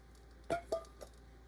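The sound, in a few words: sausage added to pot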